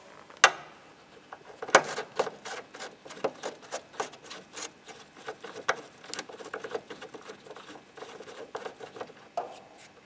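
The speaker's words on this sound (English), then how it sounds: "to get the headlight out, you will need to remove 3 screws" Small headlight screw being undone by hand on a Peugeot 307, close up: a run of light ticks, rasps and scraping clicks in an irregular rhythm, with a few sharper knocks early on and no talk.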